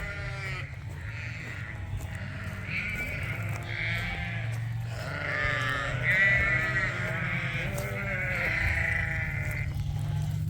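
Suffolk sheep being moved by dogs on a farm bleat repeatedly, several voices overlapping at moderate distance and rising somewhat louder midway, over a low background rumble.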